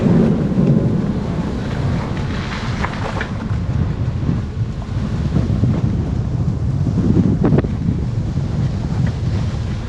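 Loud, rough wind buffeting a GoPro microphone while riding, a constant low roar with gusty surges throughout and no talking.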